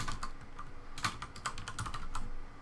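Rapid, irregular clatter of fingers typing on a computer keyboard, the key clicks close and fairly crisp and coming in uneven bursts with no voices.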